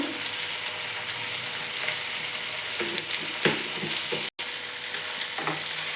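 Chopped tomato and onion sizzle in a pan for methi curry, a constant hiss with occasional stirring scrapes and a brief dropout near the end, no voices.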